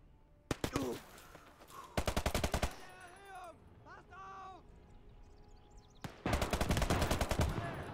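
Machine-gun bursts from the World War II strategy game Gates of Hell, in the Operation Cobra campaign, come as three loud, rapid volleys, with someone talking between them.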